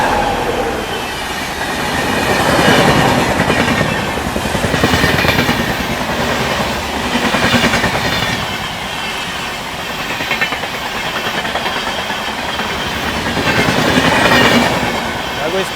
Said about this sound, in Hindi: कोई स्पेशल ट्रेन लग रही है क्योंकि WAG9 लगा हुआ है